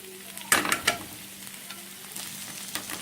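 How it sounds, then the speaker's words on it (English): Ginger garlic paste sizzles as it hits browned onions in a pan for a vegetable dum biryani, with a few sharp stirring scrapes early on over a steady frying hiss. "next we add ginger garlic paste"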